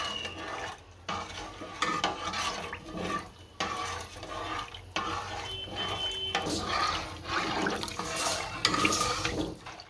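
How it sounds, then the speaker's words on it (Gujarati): A spoon stirs sugar steadily into kadhi in a pot, with soft scraping and liquid swishing in a continuous rhythm, plus a few brief louder clanks. "આ ખાંડ મલાવ્યા કરશું નકર આ ચામી જાય પાછું"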